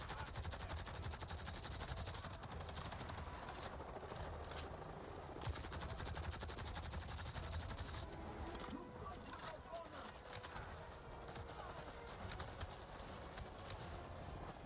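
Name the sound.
gunfire in video game Avatar Frontiers of Pandora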